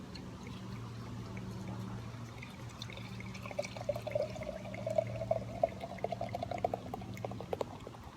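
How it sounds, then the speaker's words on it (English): Carton Shipwreck Porter beer pouring into a glass, a steady close liquid stream that turns into a gurgling, bubbling glug as the glass fills, alone without talk. "Here we go. Into a glass we go."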